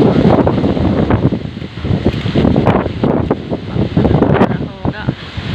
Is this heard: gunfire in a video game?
no